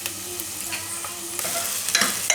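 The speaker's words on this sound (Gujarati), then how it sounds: "તો ડુંગળી આપણે થોડીક વાર પકાવી લેતીશ" Onion cooks in oil inside a pressure cooker, a close sizzle broken by frequent stirring scrapes and metallic knocks of a spoon that grow busier toward the end.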